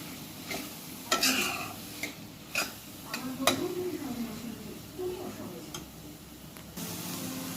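Chicken with salt and ground spices fries in a pan for chicken kosha and is stirred with a utensil. Scrapes and clinks come at an uneven pace over a faint low sizzle, with a voice talking now and then.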